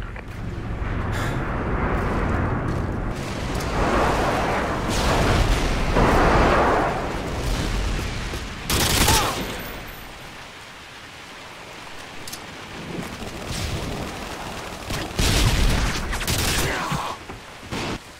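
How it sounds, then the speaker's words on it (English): Friendly airstrike in Modern Warfare 2 rains down on an underpass, a dense, loud barrage of overlapping explosions and crackling debris with a couple of heavy blasts standing out, continuous throughout with no speech. "friendly airstrike inbound."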